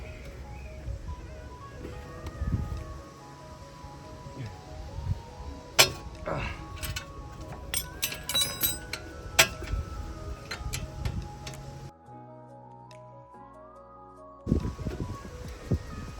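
A wrench turns against brake caliper hub bolts on a Mazda 2. Scattered metallic ticks and clinks come close by, then a short pause, with someone talking intermittently.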